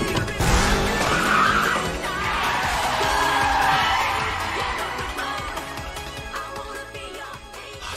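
A Toyota AE86 drifts hard through a corner while racing an Evo III in the Initial D anime, its tires squealing loudly over a roaring engine in a long sustained screech that fades slightly toward the end.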